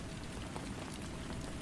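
Steady rain falling on a surface, a dense even hiss of raindrops with no talk.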